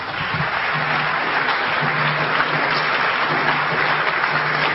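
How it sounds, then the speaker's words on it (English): Audience applause at a lecture on Egypt and the Moors in Europe, a steady wash of many hands clapping throughout, fairly loud and close, with a faint low hum underneath and no talk. "So give yourself a round of applause."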